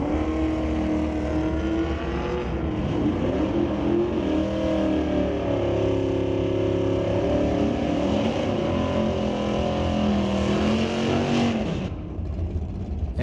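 Drag racing at a dragstrip with a 1973 Chevy Nova and a GT Fox body Mustang: loud, sustained engine roar with shifting, rising pitch as the cars run, steady throughout and fading slightly at the end.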